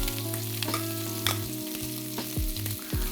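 Meat sizzles and fries in a pan for carbonara, a steady close crackle with the scrape of stirring as the pieces are moved around to brown, with no voices.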